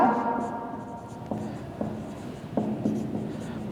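Marker or chalk writing on a classroom board, with a few sharp strokes and taps standing out over a steady low hum and faint background voices.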